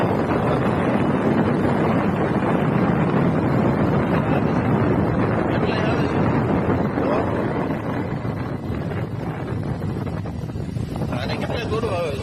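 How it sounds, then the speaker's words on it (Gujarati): Strong wind roars outdoors near a Bholanath temple, a continuous loud rush that buffets the microphone, with voices talking faintly underneath. "હવાનું વાતાવરણ"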